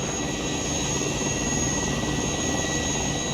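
Mi-8 and Apache attack helicopters in the WARNO war video game produce a steady, loud rotor and engine drone that stays constant throughout, with no speech.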